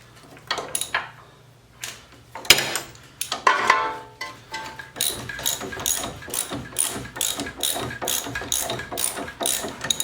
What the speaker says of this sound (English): Now all you have to do is bring your wrench again and tighten everything up.